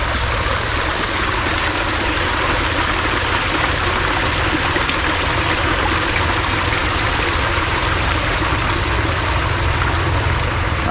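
Water trickles and babbles into a little mini pond at a metro park, a close, continuous rushing wash that holds steady and unbroken throughout.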